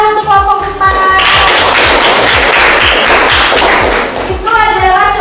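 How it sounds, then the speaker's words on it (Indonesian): A classroom group applauds a student group after their persuasive-text presentation in an Indonesian language lesson, with dense clapping swelling through the middle and rhythmic low thumps and tones running beneath. "tepuk tangan untuk kelompok 4"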